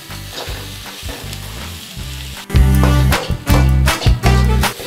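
Ginger and garlic fry loudly in a pan for village-style fish curry, a continuous sizzle punctuated by heavy rhythmic scraping and knocking of a utensil that grows louder partway through.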